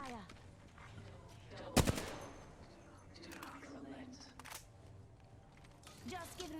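Gunfire in the video game Apex Legends, with a sharp loud burst followed by scattered fainter shots and game effects under in-game voice callouts.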